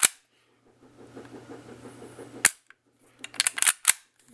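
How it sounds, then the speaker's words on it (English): Sharp single semi-automatic shots from a PTR 9KT, an MP5K-style 9mm pistol, one loud report followed after a pause by a quick cluster of several more close, crisp cracks. "you can fire, you know, singly like this, you know, on this selector, because it's obviously not full auto"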